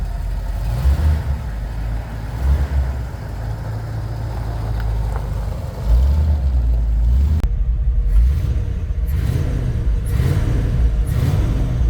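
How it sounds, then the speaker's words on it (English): A 1969 Ford F100 truck engine idles and revs with a rough, rumbling drone, underlying grinding and rattling noises from a worn throwout bearing coming and going close by. "Throwout bearing doesn't sound too good."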